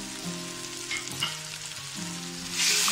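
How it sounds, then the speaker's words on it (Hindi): Whole spices, dried chillies, salt, dried coriander and turmeric frying together in oil for a vegetable biryani, a steady close sizzle with light stirring and a louder hiss rising near the end, no talking. "थोड़ा सा भूनेंगे।"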